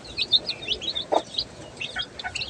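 Newly bought chicks and ducklings peep in high, scattered chirps, close and fairly faint, with a brief lower thump midway.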